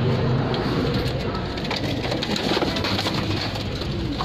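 Teddy pigeons coo in a low, soft, repeated murmur under a busy wash of hissing background noise, near and continuous without clear speech.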